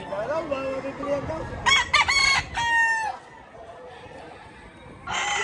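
Roosters crow loudly and close by at a fighting cock sale in Padre Garcia, several overlapping crows following an earlier clucking call. A faint murmur of chatter sits in the background.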